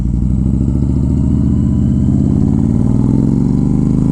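A Honda Fury motorcycle with a Moore Mafia ECU tune rumbles along on a ride, its loud, close engine droning steadily and rising in pitch as it accelerates.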